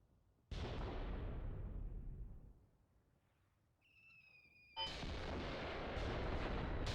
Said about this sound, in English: this artillery from the Soviets is very good.